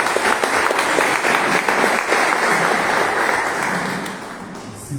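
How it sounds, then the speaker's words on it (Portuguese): Applause from a congregation at a church service, loud sustained clapping from a crowd that slowly tapers off toward the end. "Mais um aplauso ao Senhor."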